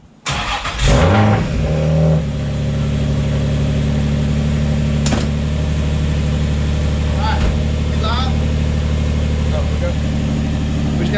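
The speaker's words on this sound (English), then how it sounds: "Cold start time coming up." A car engine cold-starts in snowy, freezing weather: a short burst of cranking catches and settles into a steady, loud idle hum that continues to the end, with a couple of faint clicks.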